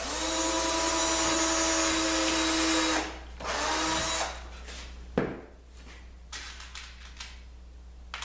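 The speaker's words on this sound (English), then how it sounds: "Just going to drill a little hole." A power drill with a 1/16 inch bit whines steadily for a few seconds drilling a small hole in plywood, winds down, then gives a couple of short bursts before stopping, close by.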